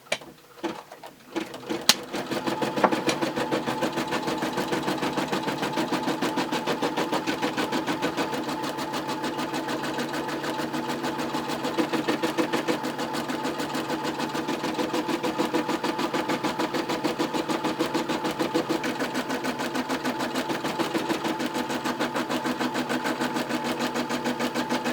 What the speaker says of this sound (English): then you just press the button again to tack it down.